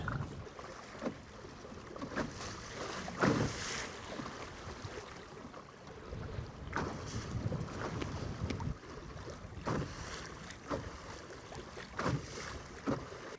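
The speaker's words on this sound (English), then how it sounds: "Just get to this side and start heading back the other way into the wind. As we get going into the wind, it'll be better. It's just this crosswind." Strong crosswind buffeting the microphone while a canoe is paddled on open water, with gusty rumbling noise and intermittent splashing bursts, no speech.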